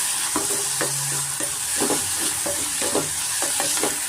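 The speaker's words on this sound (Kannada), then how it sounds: "ಇವಾಗ ಇದಕ್ಕೆ ನಾನು ಟೊಮೆಟೊ ಸೇರಿಸ್ಕೊತಾ ಇದ್ದೀನಿ." Tomatoes fry in a pan for hotel-style avarekalu bath, a steady sizzle running throughout, broken by repeated scraping stirs at a fairly even pace, close and moderately loud, with no voices.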